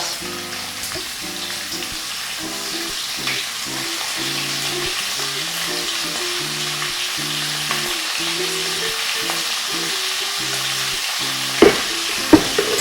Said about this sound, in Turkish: Yağım iyice kızdı. Şimdi etlerimi atma zamanı.